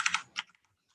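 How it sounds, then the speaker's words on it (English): Typing on a computer keyboard used for both Mac and Windows: a few quick, close key clicks in a short burst, then silence. "Using the same keyboard for Mac and Windows is not great."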